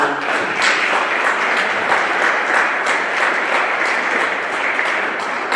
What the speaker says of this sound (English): Can we clap it up for them one more time?